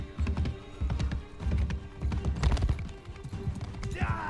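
Horse hooves galloping in the video game Mount & Blade II: Bannerlord, a steady rapid clip-clop of thudding hoof beats close up, with combat noise and a brief whinny-like sound near the end.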